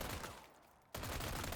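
Rapid gunfire from a hand cannon in the Resident Evil 4 Remake video game, a dense stream of loud shots that breaks off into a short quiet gap before another loud burst resumes.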